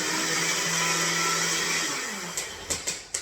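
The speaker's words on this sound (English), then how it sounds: "So we'll place this on the blender. It's going to get noisy for a second." A blender whirs loudly and steadily, blending a huli-huli chicken marinade, its motor pitch wavering, then winds down into a few sharp knocks and clatters at the end.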